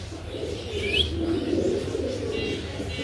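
Budapest pigeons in a loft, soft low cooing under a steady background hum, with a brief chirp partway through and faint rustling.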